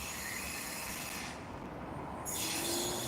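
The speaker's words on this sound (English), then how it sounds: "so that's why you hear a lot of noise, the train passing." Train passing close by, a loud continuous rumbling roar with rattling wheels and a faint squeal, filling the whole stretch without pause.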